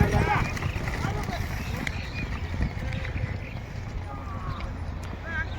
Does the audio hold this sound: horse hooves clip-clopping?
yes